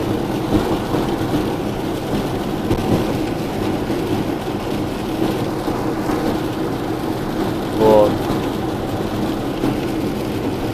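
Heavy rain pouring steadily outdoors during a thunderstorm, a dense continuous hiss with a low rumbling undertone and a brief louder burst near the end, no voices.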